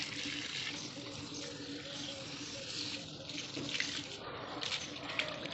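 Water runs steadily from a tap while a German Shepherd dog is being bathed, a continuous close splashing hiss filling the whole stretch.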